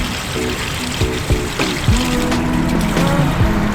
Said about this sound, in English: We're gonna dump our pee, we're gonna dump our gray water because our sink is overflowing